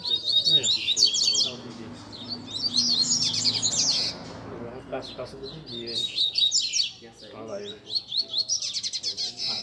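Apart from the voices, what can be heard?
double-collared seedeater (coleiro) birds singing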